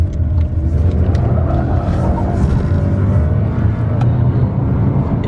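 A 2018 VW Polo 200 TSI Highline automatic accelerating in first gear, heard as a loud, steady engine and road rumble throughout with no voices.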